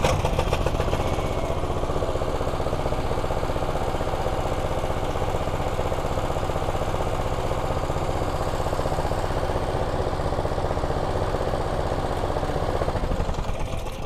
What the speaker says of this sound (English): So I'll just put the generator on so you have an idea of how sound and good the